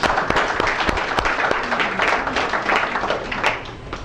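An audience at a Patient Appreciation Day anniversary event at a Cleveland clinic applauds itself, loud scattered hand claps with sharp individual smacks standing out from a dense round of clapping that runs throughout.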